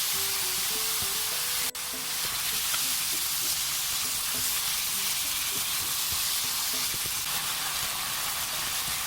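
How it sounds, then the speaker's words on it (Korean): Seasoned beef sizzles and hisses loudly in a hot pan while being stir-fried, a constant bright frying noise with faint clinks of stirring and soft background music. "이제 양념한 고기를 볶을게요."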